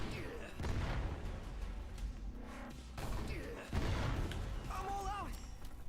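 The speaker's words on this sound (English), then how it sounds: "A fucking rocket launcher," Rocket launcher fire in Final Fantasy XV, repeated heavy blasts and booming explosions in a loud, dense battle, with game voices speaking among the impacts.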